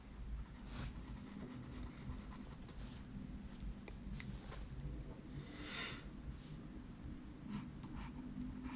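Dark pencil drawing on paper produces faint, intermittent scratchy strokes that come in short bursts over a quiet, steady background.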